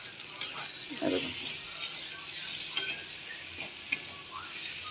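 Leftover rice and leftover meat khichuri being stirred and lightly fried in a pan: a quiet, steady sizzle with a few soft spatula scrapes and knocks, close by.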